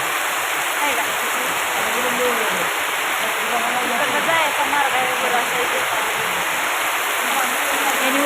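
Steady, dense downpour of heavy rain filling the whole clip, a constant loud hiss with indistinct voices faintly beneath.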